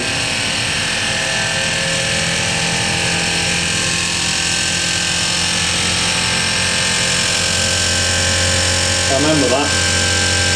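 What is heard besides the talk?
Zanussi SD 2811W spin dryer spinning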